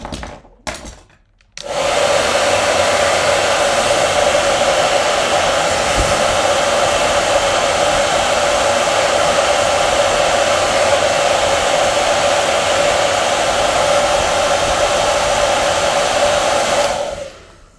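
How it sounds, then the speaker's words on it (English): A hair dryer drying watercolour paint on a portrait starts up after a brief pause and blows continuously at an even, loud pitch, then shuts off near the end. "now I'm going to dry this off with the hairdryer"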